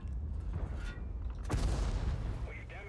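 A tank main gun in a video game fires a high-explosive shell, a single heavy boom about midway through, followed by rumbling decay and some faint mechanical clatter.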